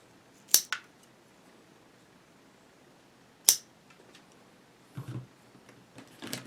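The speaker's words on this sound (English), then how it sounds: "use a pair of scissors and cut along the edge" Scissors snip along the edge of a magnet, two sharp distinct cuts with a pause between, followed by softer rustling and handling sounds in a quiet room.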